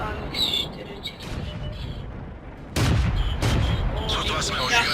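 Heavy tank cannon shots and explosions from the video game World of Tanks, loud booming blasts with a strong burst partway through over constant battle noise.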